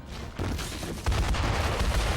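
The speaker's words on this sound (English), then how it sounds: "Where are the explosions coming from?" Explosions from a cave-in in the video game Metaphor: ReFantazio, loud dense rumbling blasts that rise in two stages into a sustained barrage of booms and falling debris, with no voice over them.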